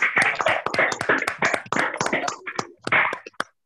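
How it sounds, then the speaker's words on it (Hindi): Applause during an online Leading Ladies meeting: a handful of uneven, close claps in irregular bursts, thin rather than a full crowd, ending in a couple of isolated claps. "इन सभी लीडिंग लेडीज के लिए एक बार जोरदार तालियां"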